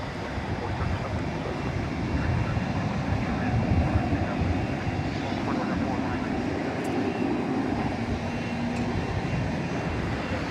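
An arriving airliner on a flight from Denver roars steadily at DFW Airport at night, a broad, continuous rumble with no clear peak, sounding like a plane passing at a moderate distance.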